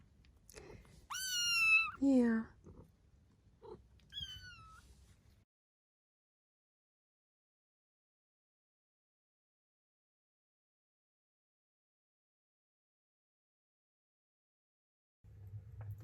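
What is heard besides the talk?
cat meowing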